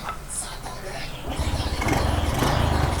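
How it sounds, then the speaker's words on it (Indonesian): A Honda Revo Fit motorcycle with a carburetor intake fault strains at full throttle, its engine note rising and thickening midway into a rough, labored buzz that stays loud and close. "itulah yang membuat motor ini hanya bisa ngeden ketika kita tarik gasnya sampai full"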